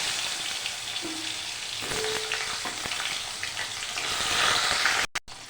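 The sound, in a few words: cut potatoes and bitter gourd frying in oil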